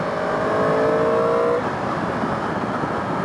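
A 2015 Yamaha R1 sport bike accelerates hard, its engine a loud, rising whine that climbs steadily in pitch. The tone cuts off midway and is followed by a rushing wind and engine drone.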